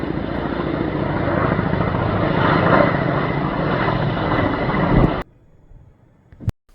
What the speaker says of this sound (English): it sounds like the helicopters are arriving or something